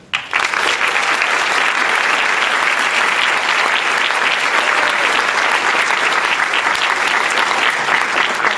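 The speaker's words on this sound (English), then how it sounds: "let's give a big round of applause for Stuart Campbell" Loud, sustained applause bursts from an audience at a morning advocacy event welcoming a new executive director; dense clapping starts abruptly and holds steady without pause.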